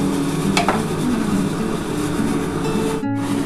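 Mixed vegetables such as cauliflower, carrots and beans going into hot oil and butter in a pan for a vegetable curry: a loud, steady sizzle and frying hiss throughout, close up, with a brief clatter.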